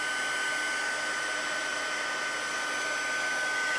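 A heat gun blows over embossed card paper, giving a constant, close, whooshing electric hum with a steady airy hiss and no change in pitch or level.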